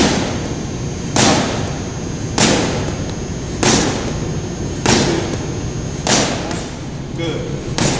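Six punches land on boxing focus mitts in a beginner's session, each a sharp, solid smack at an even pace about a second apart, close and fairly loud, with a trainer's voice in between.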